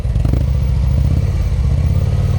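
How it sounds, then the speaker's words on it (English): A motorcycle engine runs loud and close during slow-speed riding practice in Pennsylvania, a low, throbbing rumble with rapid uneven clattering pulses as the engine shakes, steady throughout. "your whole engine is shaking"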